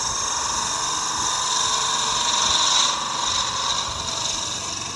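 A skew chisel takes a final cut on a colorful wooden goblet spinning on a lathe, giving a steady close hiss and rasp that holds for several seconds and swells briefly in the middle.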